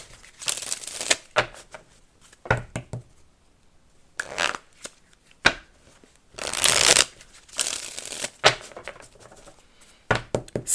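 Playing cards pulled and snapped from a deck in short, crisp bursts of riffling and slapping, with quiet gaps between, close up and alone.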